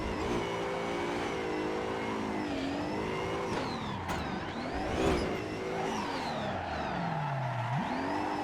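A race car in the Assetto Corsa driving sim, set up for drifting, revs hard after a shift into first gear, its engine pitch rising and falling in repeated sweeps with no talk.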